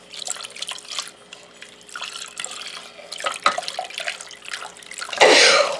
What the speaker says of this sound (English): No, I didn't sneeze into my hot chocolate.